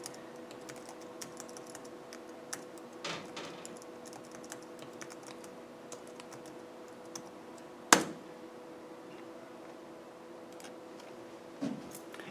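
Soft, rapid typing on a computer keyboard entering a search, a steady patter of light clicks with a few sharper key strikes, quiet and close against a faint electrical hum.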